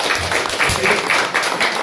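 A church congregation claps during a sermon, a short burst of mixed hand claps in an uneven rhythm, moderately loud and roomy, lasting under two seconds.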